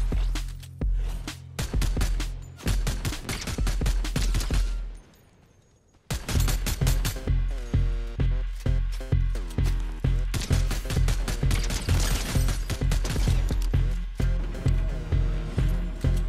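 Repeated gunfire in the video game Fortnite, loud sharp shots in rapid bursts, a short lull around the middle, then steady rhythmic firing resumes close up.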